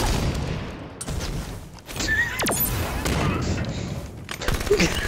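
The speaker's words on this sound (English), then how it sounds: "Nice grenade. No, that was a great grenade." Explosive game combat in Halo 5: a dense burst of booms and gunfire with a sharp blast near the middle, continuous and loud, while players talk over it.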